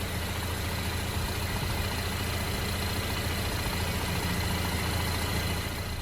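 A Chevrolet Camaro engine idles steadily while warming up, a low, even rumble, close by and continuous with no talking.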